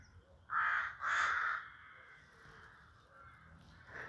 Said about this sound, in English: The crows haven't stopped once since we got here.